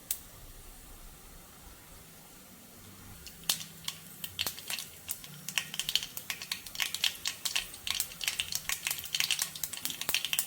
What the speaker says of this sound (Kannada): ಈಗ ಸಾಸಿವೆ ಪಟಪಟ ಅಂತ ಇದೆ.